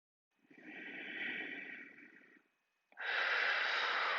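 Deep breaths during a yoga class, a long audible inhale followed after a short pause by a stronger, louder exhale, close and soft, with no talking.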